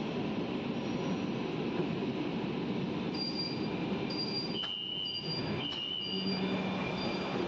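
A Kolkata underwater metro train running between Howrah Maidan and Esplanade, a steady rumbling ride with faint high whines and brief dips in the noise, heard from inside the carriage.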